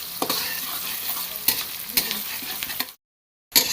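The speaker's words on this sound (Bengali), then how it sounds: "পেঁয়াজগুলো আমরা একটু ভেজে নিচ্ছি" Onions sizzling in a frying pan with regular scraping stirs of a spatula, close and steady, then a sudden brief silence before the frying noise resumes.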